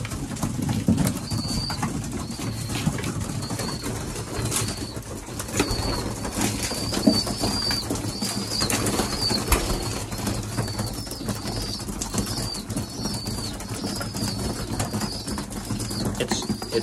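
Young racing pigeons being hand-fed give a long string of thin, repeated high squeaks, with occasional wing flaps and scuffling close by, and no voices.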